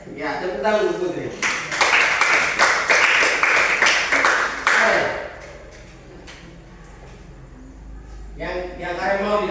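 A classroom of students claps for their classmate Putri, a dense burst of applause lasting about four seconds, with a teacher talking before and after it.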